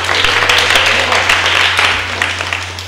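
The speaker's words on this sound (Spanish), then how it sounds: "entonces le aplaudimos también a Lulo" Children applaud at a library event for International Library Day in Miajadas, a steady dense patter of clapping filling the room, close and fairly loud, fading slightly toward the end over a low electrical hum.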